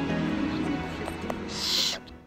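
An owl hooting at a forest spot in Kashubian Switzerland, Poland, a steady low call running through most of the stretch over a background of faint rustle, with a brief hiss near the end.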